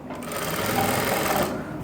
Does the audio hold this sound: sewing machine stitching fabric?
yes